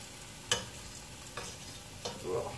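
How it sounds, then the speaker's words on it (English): Breakfast sausage fries in a pan, a faint low sizzle broken by a few sharp clicks and scrapes, as if it is being stirred and turned, with no talking. "Oh, listen to that sizzle."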